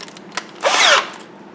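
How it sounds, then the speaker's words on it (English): A power drill bores briefly into a wood carving of a Native American woman with a blanket, a short close whirring burst after a small tap. "And then I take a drill a little larger"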